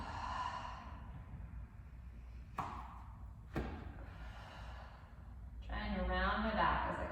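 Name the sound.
breathing in and out during Pilates exercise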